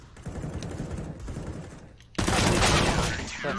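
Rapid gunfire crackles in a first-person shooter match, bursts of shots close and loud, then a sudden sharp, sustained blast of fire in the second half.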